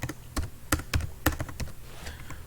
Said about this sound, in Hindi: लिखेंगे सिस्टम डॉट इन।